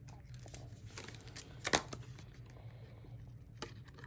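Good scissors snip through scrapbook paper close up, a few quiet crisp cuts with one sharper snip near the middle, set against faint room hum and light paper rustling.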